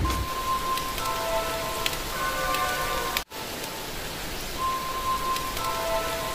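Steady heavy rain from Cyclone Amphan's landfall in West Bengal pours down in a dense, constant hiss, with a brief dropout midway before the downpour continues.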